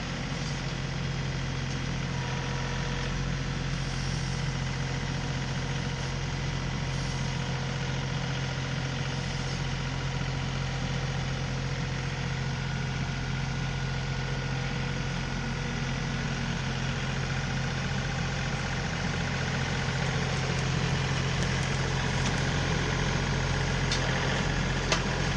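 A John Deere 3038e compact tractor engine idles steadily and close by, a constant low diesel rumble with no speech throughout.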